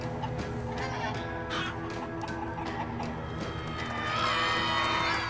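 Chickens cluck and squawk in Minecraft: Story Mode, several birds calling busily over a steady, dense game soundtrack, the clucks loud and close throughout, with no voices.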